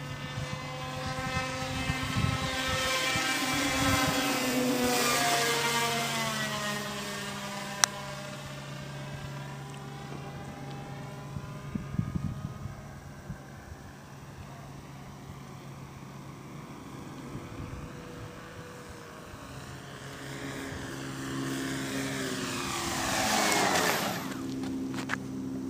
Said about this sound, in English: Alright, approaching for landing.